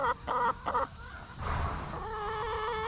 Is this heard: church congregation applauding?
no